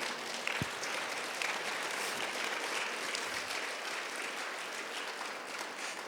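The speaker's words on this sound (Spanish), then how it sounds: "si yo fuera tú, aplaudiría al Señor" A church congregation claps throughout, a steady, dense wash of applause from many hands at moderate distance with no break in the sound.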